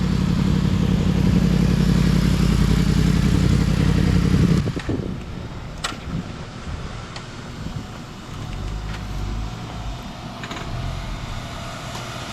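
A Yamaha FZ-10 motorcycle with a long exhaust pipe rumbles in loudly, its engine note cutting off abruptly partway through, followed by quieter clatter and ambient outdoor noise.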